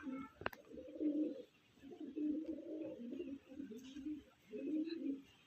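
Andra pigeons cooing in low, rolling bursts, four or five throaty phrases separated by short pauses, close and fairly quiet, with one sharp click near the start.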